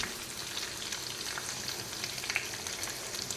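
Salt roasting in an iron appam pan being seasoned, a continuous crackling sizzle with scattered sharp pops from the hot grains, close and steady with no talking.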